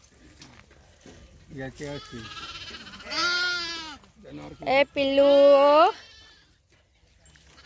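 About a hundred sheep with shepherds; several bleat in wavering cries, a couple of them loud and close, with brief speech mixed in between.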